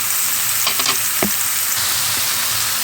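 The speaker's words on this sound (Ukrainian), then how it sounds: "І на цьому етапі ми додаємо цибульку." Chopped onions are added to mushrooms already frying in a pan, making a continuous close sizzle with a few quick clatters and stirring knocks.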